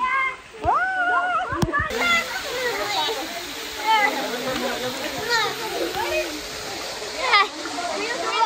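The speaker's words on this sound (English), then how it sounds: "Y'all ready to go under a waterfall?" Splashing water from a waterfall over an underground lazy river, a steady broadband rush with excited children's and adults' voices over it throughout.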